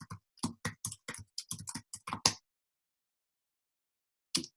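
A computer keyboard clatters in a quick burst of about a dozen sharp keystrokes, then falls silent before one final tap.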